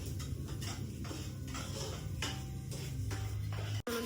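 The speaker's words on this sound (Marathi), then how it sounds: "बिचारा भांडी घासतो." Dishes being scrubbed and washed by hand at a farmhouse, giving a steady run of light, repeated clinks and scrapes over a low background hum. There is a brief dropout near the end and no talking.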